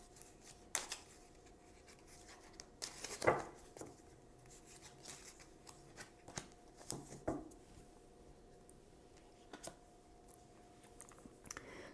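Tarot cards handled and shuffled by hand, a series of quiet, scattered riffling and tapping sounds spread irregularly over a faint, near-silent background.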